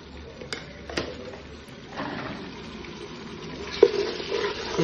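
Ginger-garlic paste, turmeric and chili fry in oil with onion and tomato, a low, moderate sizzle broken by a few light clicks and scrapes of stirring, with no talk.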